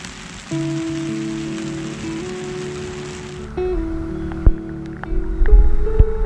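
Rain falls during a chub and tench fishing session at a stillwater, a steady close hiss that fades under intermittent tonal hums and a few sharp knocks and bumps of nearby handling.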